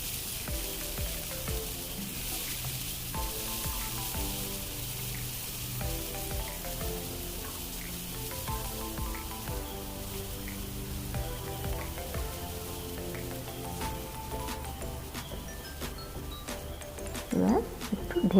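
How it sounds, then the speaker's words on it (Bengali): Chopped onion frying in oil for a Bengali rui fish curry, a steady close sizzle with intermittent stirring clatter, continuous throughout and ending in a few louder scrapes. "এবার পেঁয়াজ কুচি দিয়ে নাড়াচাড়া করে নেব।"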